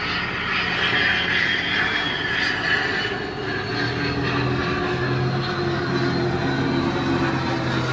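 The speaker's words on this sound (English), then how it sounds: "And of course, here comes a plane." Airplane in a flight path passing overhead, a steady broad roar with a low engine drone that holds loud through the whole stretch, no talk over it.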